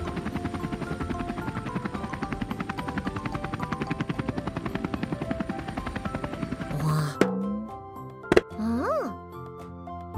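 Cartoon helicopter effect in a kids' truck cartoon, a rapid rhythmic rotor chop running steadily for about seven seconds, then stopping, followed by a few plinks, a ding and a rising-falling toy-like tone.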